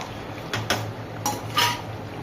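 Red chana masala is scraped from a pan onto a plate, a few utensil clinks and knocks against cookware over a soft background hiss.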